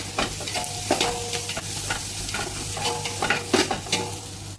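Onions stirred and sautéed in a pan for chicken pulao, with steady sizzling and frying under repeated scraping strokes of a spoon, close and fairly loud throughout.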